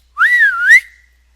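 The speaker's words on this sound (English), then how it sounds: "Candy Cane gave a high-pitched whistle" A single high-pitched whistle, sliding up and dipping before rising again to a sharp peak, then trailing off; loud, close and alone against silence.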